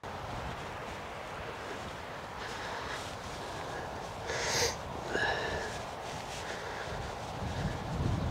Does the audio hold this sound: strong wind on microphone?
yes